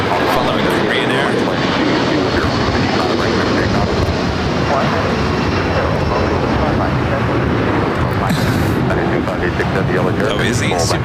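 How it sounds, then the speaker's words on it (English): A Korean Air Airbus A380 on its takeoff roll at Los Angeles International Airport, a loud, steady engine roar that fills the whole span without pause. "Flight 201 heading back to Seoul, the second A380 takeoff"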